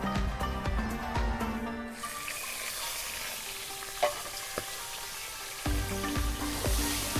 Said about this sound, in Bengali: মাছের মাথা দিয়ে ডাল বানানোর জন্য আমি ওই তেলে মাছের মাথাটাও ভেজে নেব